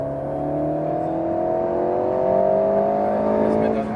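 Alpine A110 S accelerating hard on the Le Mans circuit at Maison Blanche, heard from inside the car, with a loud engine note rising steadily in pitch, then a gear change near the end.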